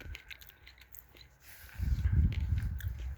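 A quiet pause, then a close, loud crunchy bite followed by juicy chewing of ripe Tason grapes that continues to the end.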